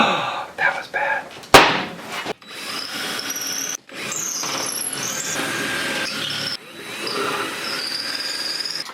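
Power drill with a regular drill bit boring into a ceiling while hanging drywall around canned lights, sustained whining drill runs broken by short pauses, a sharp click, and nearby talking.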